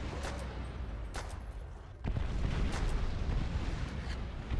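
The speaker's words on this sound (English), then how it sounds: "There's explosions everywhere." Explosions in a zombie-mode video game, a dense, sustained rumble of blasts that starts softer and swells louder after about two seconds, continuing without a break.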